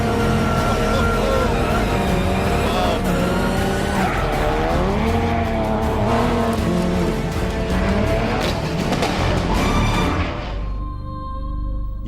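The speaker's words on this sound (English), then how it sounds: "this car has been set up to handle just like a rally car would on gravel" A car set up to handle like a rally car on gravel, driven hard by Ken: the engine revs rise and fall while tyres skid and scrabble loudly and continuously close by, then the sound drops away near the end.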